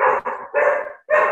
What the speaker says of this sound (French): Excusez-moi, j'ai mon chien.